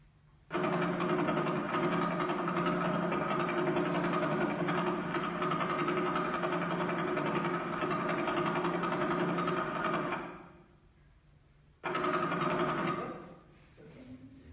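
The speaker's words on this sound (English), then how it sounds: "what you're actually listening to is one of the pulsars" A radio-telescope pulsar signal is played as a loud, rough, buzzing drone with a steady rapid pulse, like a badly running engine. It runs for about ten seconds, stops, then returns for a short second burst.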